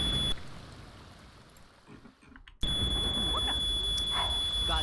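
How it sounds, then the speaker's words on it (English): A smoke alarm sounds during a house fire in the Sims 2 video game, a steady high-pitched electronic tone that cuts out briefly and returns with game noises alongside. "Oh my goodness, there's a fire again! Who did this now? Oh my goodness. Oh well. They had a fire alarm."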